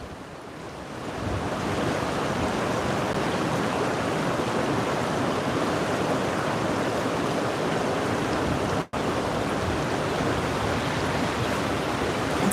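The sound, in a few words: gusty wind by a river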